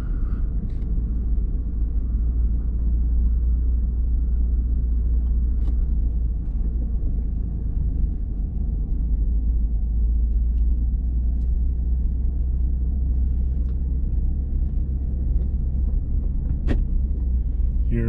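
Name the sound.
Ford F150 Tremor truck driving off-road in 4-high through mud ruts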